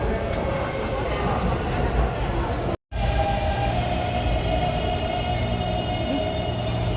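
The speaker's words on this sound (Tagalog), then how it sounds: "may dumaan na tren" An MRT train in Taiwan rolls through a station with a loud, steady rumble and rushing noise that fills the whole stretch, broken only by a brief gap, with faint crowd sounds mixed in.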